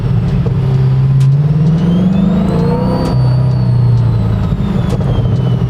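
A supercharged Corvette C8 wide body is driven at low speed, its exhaust giving a loud, close, rumbling burble with engine tone rising and falling and a thin supercharger whine above it.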